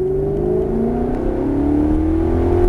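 A Maserati GranTurismo S accelerates hard on a track, its engine note climbing steadily in a loud, close, continuous roar with no voices over it.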